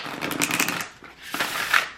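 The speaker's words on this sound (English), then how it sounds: "Spirit says give it one more shuffle, please." A deck of oracle cards being shuffled at close range, two quick riffling bursts of papery flutter split by a short pause.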